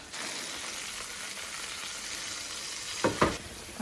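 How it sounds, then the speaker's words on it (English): Potatoes sizzle and fry steadily in hot oil in a cast-iron pan, a close, continuous crackle with a couple of louder bursts near the end as they are stirred or shifted. "we're going to go in with our potatoes right into the hot oil"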